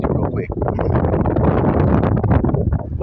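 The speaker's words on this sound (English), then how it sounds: "I know it's windy" Wind buffets a microphone outdoors, a loud continuous rumbling roar with gusty swells throughout, with a voice faintly mixed in.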